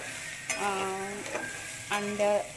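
Onions sizzle in a pan for egg bhurji and are stirred. Repeated scraping strokes sound over a steady, close frying hiss.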